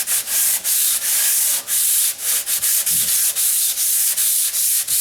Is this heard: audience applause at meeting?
no